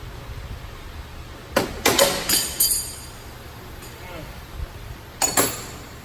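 Metal tools being rummaged through while hunting for a wrench during a power steering pump job on a 1994 Ford Explorer, a few sharp clanks and clinks in short bursts against quiet background.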